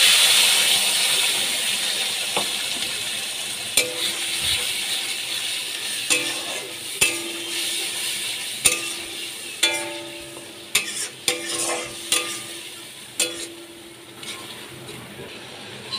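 Chopped onion and paste sizzle steadily in a hot pan for an egg dish, a constant hiss broken by repeated sharp clacks and scrapes of a spatula stirring, up close.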